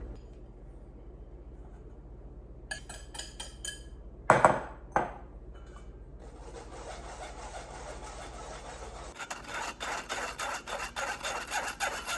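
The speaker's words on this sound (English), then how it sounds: "I'm going to just sift the dry ingredients to make sure I remove all those lumps" Dry cookie ingredients with cocoa powder are sifted through a mesh sieve, a soft raspy rubbing with scattered metallic taps and knocks, building into steady close shaking toward the end.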